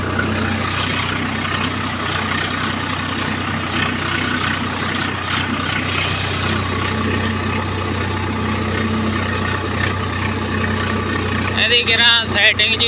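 A tractor runs steadily with a computerized land leveller attached, its constant low engine drone dominating throughout, with faint voices beneath and a brief rise in clatter near the end.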